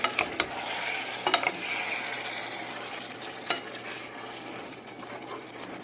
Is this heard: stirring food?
yes